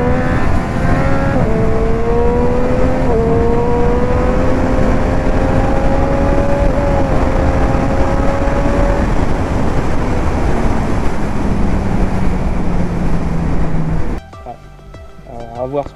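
A 2019 Triumph Street Triple 765 RS motorcycle engine revs hard and loud close up, its pitch climbing and shifting through gears in a continuous roar with rising and falling tones, then cutting off as a voice begins speaking at the end.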